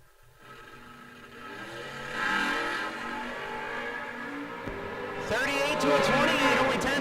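Drag racing launch of a Chevy Nova beside Brandon Reynolds' wheelstanding truck at a no-box bracket race: loud engines build into a sustained roar, swelling further into a sharp, bright surge near the end.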